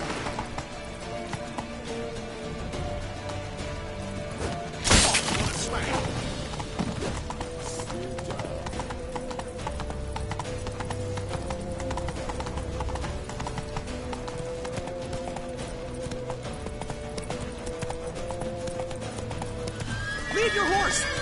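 Horses gallop with steady clip-clop hoofbeats and neigh in The Witcher 3 game, the hooves continuous and close throughout, a sharp burst near the middle, while voices shout over the action.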